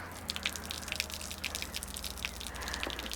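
Water dripping and spattering from a badly leaking AVA pressure washer wand after the hose pressure is released, a steady patter of small drops over a low background hum.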